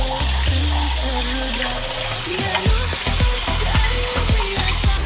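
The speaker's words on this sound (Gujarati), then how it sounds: "ઠંડુ પાણી નાખી અને હલાવી અને તૈયાર છે પાણી." Cold water is poured and stirred to make pani puri water, a continuous close rushing splash that turns into a rhythmic series of stirring knocks and sloshes in the second half.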